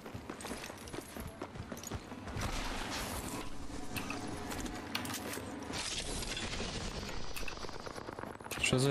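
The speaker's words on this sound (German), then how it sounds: "Schüsse hinter uns." Rapid automatic gunfire bursts behind the players in the battle royale game Apex Legends, dense and continuous under other game noise, growing louder toward the end.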